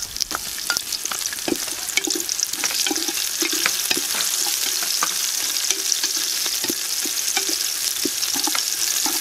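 Onion sautéing with golden-browned garlic in a pan for balbacua soup: a continuous close sizzle broken by frequent scraping and tapping of a spatula stirring the pan.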